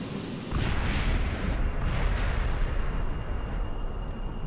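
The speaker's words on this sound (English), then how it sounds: "Let's go immediately through the doodah, and we shall launch the missile." A missile launches and blasts into a building in Kerbal Space Program, a loud roaring rumble that swells suddenly and carries on as a dense, sustained explosive wash.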